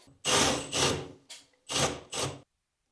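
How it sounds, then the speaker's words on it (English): A power drill whirs in four short bursts, the second and fourth briefer, with brief gaps between, close and fairly loud with no talking. "And then I'm using my drill like normal."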